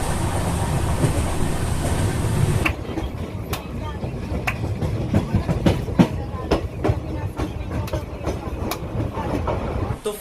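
A train rolls along the rails with a steady rumble and a regular clickety-clack of wheels over joints, the rhythmic clacks sharp and close.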